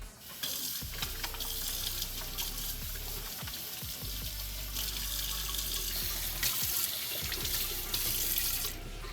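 Hands are rinsed under a running kitchen-style tap at a sink after scrubbing with Grip Clean hand soap, the water gushing loudly and splashing in shifting bursts as the hands move through the stream.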